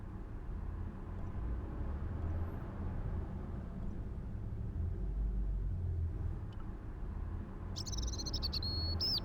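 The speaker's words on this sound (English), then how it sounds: "all I could hear was the ceaseless drone of traffic" A low, steady rumble of traffic drones without pause through a Broken Sword game scene, with a faint, high chirping sound entering near the end and no talking.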